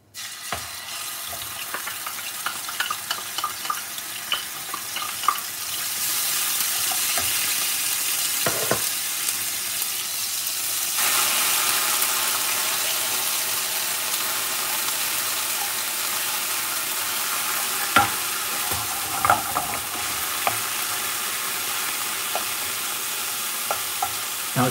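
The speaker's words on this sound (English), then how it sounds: "I'm going to put ginger garlic paste in." Ginger garlic paste fries in a pan while being stirred for a Madras curry: a steady moderate sizzle runs throughout, broken by occasional clinks and scrapes of the utensil against the pan, with no one speaking.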